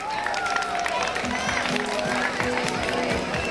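A crowd at a Special Olympics opening ceremony in Lviv applauds, a steady wash of clapping running throughout at moderate distance, with a voice and background sounds layered over it.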